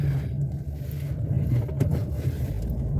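A Chevrolet Onix engine idling up close with a steady low rumble and a faint, regular ticking rattle from the timing belt area.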